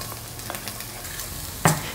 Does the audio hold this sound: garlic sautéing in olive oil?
yes